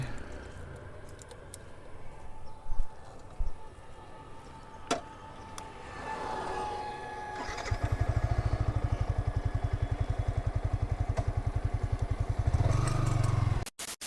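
Quiet handling noises give way to a new Yamaha R15 V4 motorcycle engine starting up, a loud, steady low thumping that runs for several seconds before cutting off.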